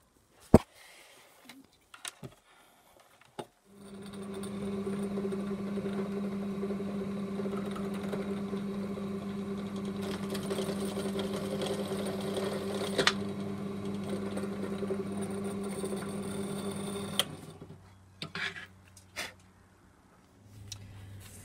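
A power drill bores holes into the rear of a Yamaha Virago/Kawasaki ER5 motorcycle to mount a tail light, one sustained whirring run of about thirteen seconds between a few clicks and handling knocks, close and moderately loud.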